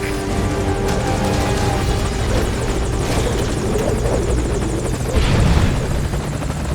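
Steady, close rotor beat and turbine hum from a helicopter waiting at a landing zone in the Metal Gear Solid V: Ground Zeroes game, loud and unbroken throughout.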